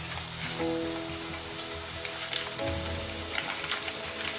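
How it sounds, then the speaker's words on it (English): Diced onions sauteing in a pan for Nigerian jollof rice, giving a steady, close broadband sizzle that runs unbroken throughout, with light crackles and no talking. "So we're going to saute this one till they turn golden brown."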